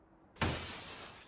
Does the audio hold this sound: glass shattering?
yes